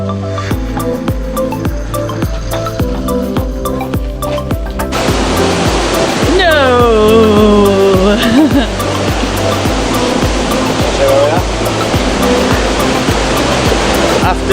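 A steady, roaring rush of Pembok waterfall in Pai, Thailand, loud and continuous, with a sharp shift partway through as the roar grows fuller.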